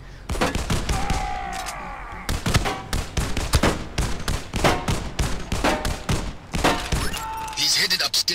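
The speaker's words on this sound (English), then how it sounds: "Jeez, how many shots do these guys take?" Rapid gunfire in the VR shooter game John Wick Chronicles, dense loud bursts of shots and impacts nearly filling the stretch, with brief gaps, and someone speaking over it.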